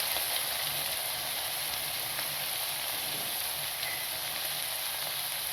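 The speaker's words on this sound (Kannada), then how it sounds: "ಸ್ವಲ್ಪನೇ ಈರುಳ್ಳಿ ಫ್ರೈ ಮಾಡ್ಕೊಂಡಿದ್ದೀನಿ. ಆಮೇಲೆ ಟೊಮ್ಯಾಟೊ ಹಾಕ್ತಾಯಿದ್ದೀನಿ" Onion and tomato fry in a pan for a rice dish, a steady close sizzle and crackle continuing evenly without speech.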